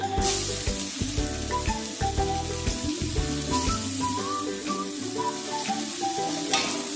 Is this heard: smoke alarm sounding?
no